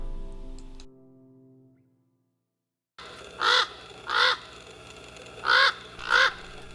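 Adult birds near a nest of four young give four harsh, caw-like calls in two pairs. The calls follow a quiet gap and sound moderately near.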